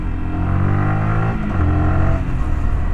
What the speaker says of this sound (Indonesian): dia ketika engine brake itu nggak langsung kayak ngerem gitu, nggak